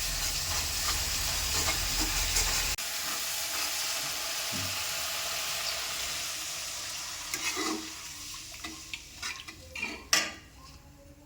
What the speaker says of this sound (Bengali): ও জল অ্যাড করে দিচ্ছে।